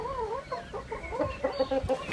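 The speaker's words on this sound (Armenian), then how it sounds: "հավերս թե բաղչումը կղկղում են" Hens cluck in a garden, close by, in a run of short repeated calls that rise and fall, with no talk over them.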